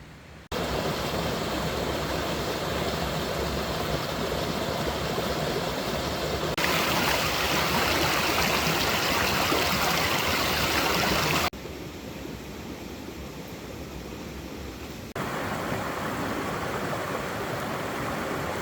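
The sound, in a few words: flowing creek water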